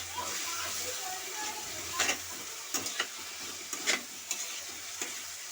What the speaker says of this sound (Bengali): এটাকে ভালো করে এটাকে আমি কষাবো